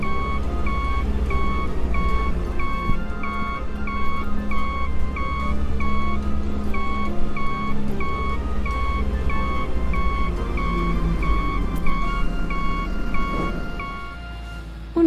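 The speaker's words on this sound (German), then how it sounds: "Der Fahrer setzt den Rückwärtsgang ein" A tractor reverses with its engine droning steadily while a backup alarm beeps in a regular repeating pattern, the beeping ceasing toward the end as the engine note shifts.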